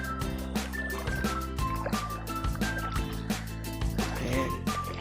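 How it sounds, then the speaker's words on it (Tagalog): A rain-swollen forest stream flows fast, with a steady close gurgle and repeated drips and splashes over a low continuous rush. "Malakas po yung tubig ngayon."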